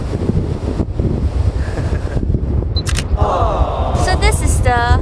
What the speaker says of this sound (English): You guys hear the wind? It's so windy,